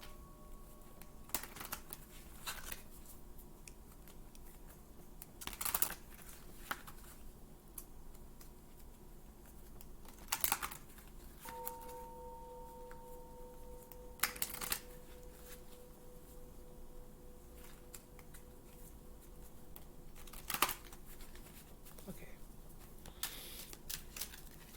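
A deck of cards being shuffled and handled during a tarot-style reading, soft riffles and sharp card snaps recurring irregularly, close and quiet, with a faint tone in the background.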